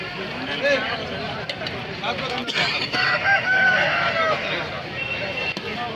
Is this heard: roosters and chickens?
yes